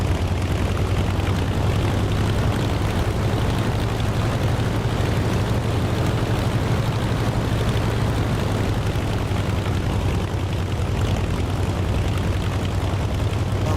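A propeller aircraft engine runs steadily before takeoff in the DCS flight simulator game, a constant loud drone with a low hum throughout and no speech over it.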